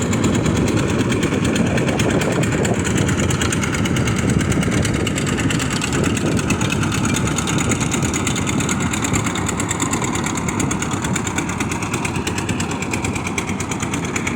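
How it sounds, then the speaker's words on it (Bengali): A motor boat races along the Brahmaputra river, its engine giving a loud, continuous close drone with a buzzing, rough texture that holds steady throughout, no talking. "কি সুন্দর একটি নৌকা ব্রহ্মপুত্র নদ বয়ে চলছে।"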